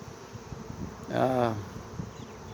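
A honey bee swarm hums quietly in the background, then a single close, pitched buzz rises and fades over about half a second before the low droning returns.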